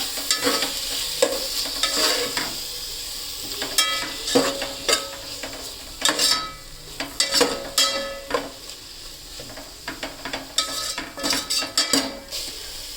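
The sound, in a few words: tomatoes frying and being stirred in a pan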